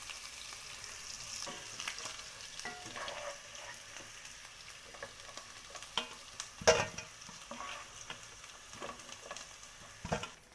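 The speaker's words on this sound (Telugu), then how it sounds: "స్టవ్ వెలిగించుకొని బాండీ పెట్టుకొని కొద్దిగా ఆయిల్ వేసుకొని పొటాటోస్ మీద గోల్డెన్ కలర్లో వచ్చేదాకా ఫ్రై చేసుకోవాలి" Baby potatoes fry in a little oil in a wok-style pan, giving a steady close sizzle with occasional stirring clatter and a few sharper pops, with no talk over it.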